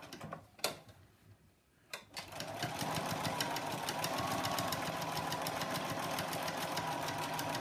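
Sewing machine stitching a gift card holder: a couple of clicks, then a steady, fast mechanical whirring chatter that runs continuously and close up.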